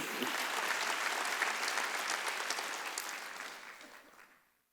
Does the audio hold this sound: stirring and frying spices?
no